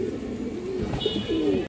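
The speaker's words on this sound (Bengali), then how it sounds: "খুব সুন্দর এক পেয়ার সবুজ গলা কবুতর আছে," Green-necked pigeons cooing softly at close range, low throaty calls repeating over faint background noise.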